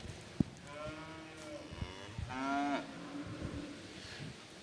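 Steers at a junior prospect calf livestock show moo in a couple of drawn-out, fairly close calls, with knocks and shuffling from the show ring in between.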